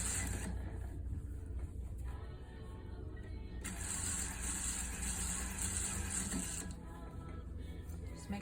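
A sewing machine runs steadily while stitching a skirt facing, starting with a quick automatic back stitch and then humming in a continuous close-up whir with shifting motor pitch.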